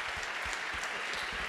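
An audience at a business awards night for finance executives claps in a brief, steady burst of applause, fairly distant and even throughout.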